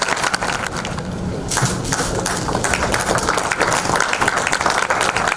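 An audience at a corporate conference claps to welcome a speaker on stage, a dense patter of hands with a few sharper claps standing out and no talk over it.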